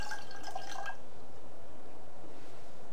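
Used, slightly dirty water is poured out and discarded during a Musakojisenke-style tea ceremony, a brief close splashing trickle at the start that fades into quiet room tone.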